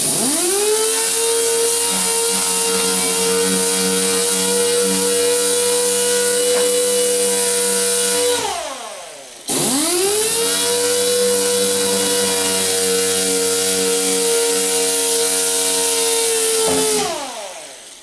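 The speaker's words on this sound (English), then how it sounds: "we just want to kind of grind this back" A power grinder works on a plastic Ford Flex bumper cover, spinning up to a loud, steady high whine, winding down, then revving up again for a second long pass.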